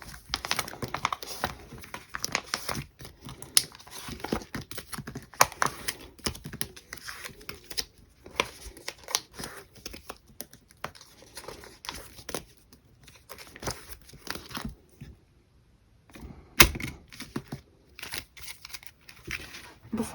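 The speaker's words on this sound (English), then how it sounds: "all I have left to do is to take these cards out and put them in the new A5 binder" Plastic sleeves crinkling and rustling as photocards are slid out by hand, a steady run of close, small crackles and taps with brief pauses.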